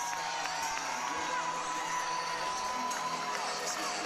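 Crowd at a Cal versus Oregon State women's gymnastics meet cheering and whooping, a dense, steady roar of many voices in a large arena, with a few higher shouts rising out of it throughout.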